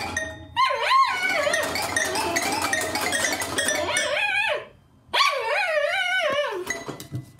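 A dog vocalizes loudly and close up in a continuous run of yowling, barking-like cries with rising and falling pitch. The sound breaks off briefly, then resumes with more cries.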